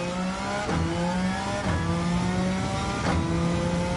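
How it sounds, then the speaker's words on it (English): Race car engine in Gran Turismo 7, loud and revving hard through aggressive gear changes, the pitch climbing then snapping down at three distinct shifts, with no talking over it. "I can't get tired of listening to this engine and this gearbox."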